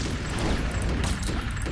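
Dense burst of gunfire and impacts in the video game Chaser, loud and crackling throughout a short moment with overlapping shots and no clear pause.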